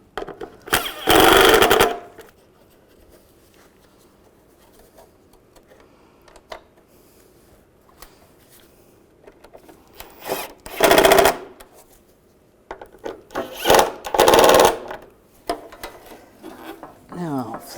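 Ratcheting bursts from bolts being snugged down on a 1998-2010 Volkswagen Beetle radiator, three loud clusters of rapid clicks separated by quieter stretches of handling noise.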